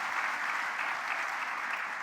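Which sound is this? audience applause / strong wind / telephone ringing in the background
audience applause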